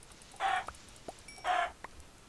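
Two short bursts of chicken clucking in a Minecraft farmyard, close and fairly loud, separated by a pause, with faint clicks and game noises between them.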